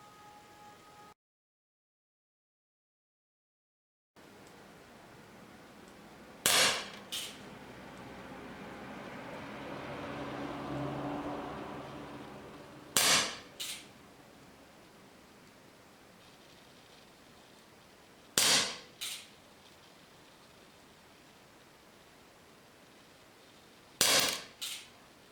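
An Umarex Colt SAA air pistol fires in a 6-meter accuracy test, four sharp, fairly close reports spaced several seconds apart, each followed by a quick second click, over quiet room hiss.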